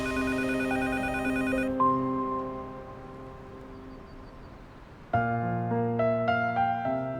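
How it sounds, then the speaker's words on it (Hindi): A telephone plays an electronic melodic ringtone nearby, a pattern of bright repeating tones that fades out and then starts again louder for another round. "मैं फोन देख कर आता हूँ।"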